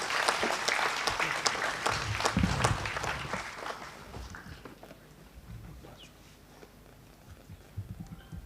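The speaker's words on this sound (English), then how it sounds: "Can we have a huge round of applause for her?" An auditorium audience gives a round of applause, with dense clapping at first that thins out and fades to scattered claps and room noise.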